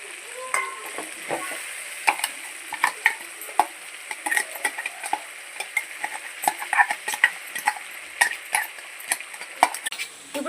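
Ginger paste sizzles in hot oil in a pan for pilaf while a spoon stirs and scrapes it, giving a steady close frying hiss broken by frequent sharp metallic clicks.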